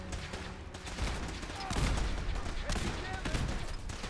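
Dense, continuous gunfire in a Fallout 4 battle against Brotherhood of Steel forces, many weapons firing at once. It runs for the full length as a thick, loud layer of overlapping shots, with a few brief bursts standing out.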